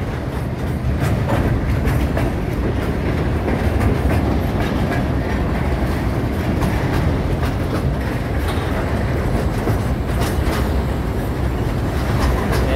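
A long train of many wagons rumbles past close by at a street crossing, steady and loud, with rhythmic clickety-clack of wheels over rail joints throughout.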